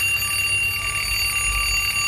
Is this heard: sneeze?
no